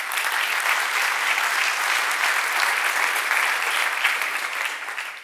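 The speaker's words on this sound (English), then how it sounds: "I wanted to say thank you to everybody and give a big round of applause" Steady, dense applause from a conference audience at the Monitorama monitoring event in Portland, sustained at even loudness throughout before easing slightly at the end, with no voices on top.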